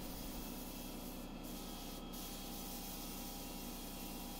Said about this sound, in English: Once I'm happy with the settings, I start spraying the primer on the pieces.